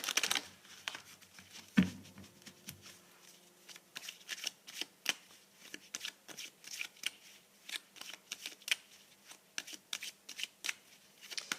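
Tarot cards are shuffled and laid out by hand in a quiet room, with steady soft riffling and flicking, crisp card snaps and light taps close by, alone without talk.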